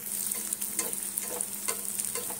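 Banana flower chops shallow-fry in sprinkled oil over a low gas flame, with a constant bright sizzle and quick, rhythmic spatula scrapes close by.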